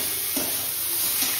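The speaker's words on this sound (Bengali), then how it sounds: "আর এদিকে উচ্ছে আলু ভাজা হচ্ছে।" Bitter gourd and potato pieces frying in a pan give a steady, close sizzle with a couple of soft stirring scrapes, with no talk.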